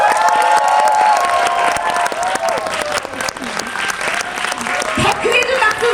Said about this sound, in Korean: 한번 박수 쳐주시고 우렁차게 함성해 주시면